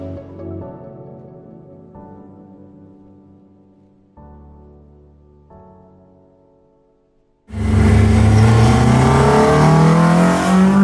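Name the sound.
car engine with VTEC revving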